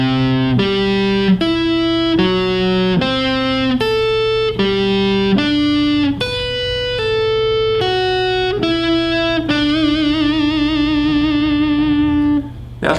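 Distorted electric guitar plays a rock lick mixing sweep picking, hybrid picking and string skipping, with clear separate melodic notes in quick runs that end on a sustained vibrato note, loud and solo with no talking.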